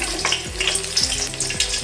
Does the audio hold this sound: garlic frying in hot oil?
yes